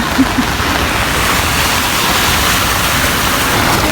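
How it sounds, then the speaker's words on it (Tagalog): Floodwater rushes through a street in Dubai in a steady, loud, continuous wash of broadband noise, close by and unbroken, with no talking over it. "Ang ganda, oh, ng baha."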